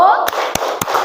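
A class of children claps out a steady going-home chant, three crisp evenly spaced claps under overlapping young voices.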